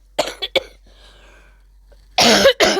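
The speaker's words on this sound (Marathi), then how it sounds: "थोडंसं खोकला येतो" A person gives several harsh coughs close up: two quick ones at the start, a quiet pause, then a louder, longer coughing burst followed by one more.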